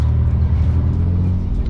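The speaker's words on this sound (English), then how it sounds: "I want this car to actually sit and idle." Nissan 300ZX Z31 with an electric fan upgrade idling in a fast-food drive-thru, a steady deep low rumble from the engine holding even throughout, with no talk.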